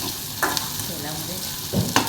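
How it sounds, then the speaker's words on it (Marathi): Onion fries in hot oil for a shepu bhaji, a steady close sizzle broken by a few brief scraping stirs of a spoon. "कांदा चांगला शिजू दिला"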